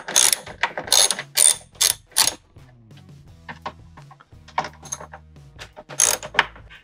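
Ratchet wrench tightening bolts on Toyota Hilux towing mirrors, rapid close clicking pawl strokes in repeated bursts, some louder and sharper, separated by brief pauses.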